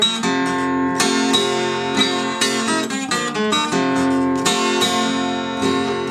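A blues lick from the introduction of a song, played alone on guitar with clear plucked notes in a quick, rhythmic blues phrase.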